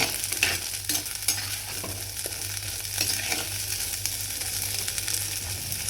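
Green turkey berries sautéed in a heated stone pot over low flame, giving a steady soft sizzle with occasional stirring scrapes and clicks, close and moderate in level, no voices.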